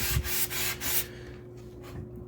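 An Optimus water block is lapped on sandpaper in several quick, close rubbing strokes, loud at first and then fading to lighter scrapes.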